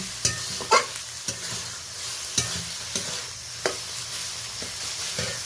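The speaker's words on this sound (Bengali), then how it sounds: "তারপর আমি আদা রসুন কাঁচা লঙ্কা টমেটো কুচি দিয়েছি। এটা ভালো করে নেড়ে নিচ্ছি।" Ginger, garlic, green chili and chopped tomato fry in oil with cinnamon and cardamom as a spoon stirs them. A constant sizzle is broken by repeated sharp scrapes and knocks against the pan.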